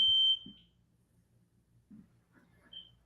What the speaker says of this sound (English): I think I've got an alarm